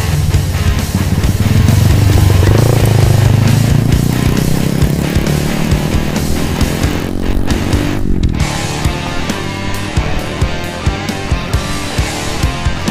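Automatic scooter motorbike used for freestyle riding, its engine loud and close, rising in a revving whine early, then sputtering and popping unevenly as the throttle backs off.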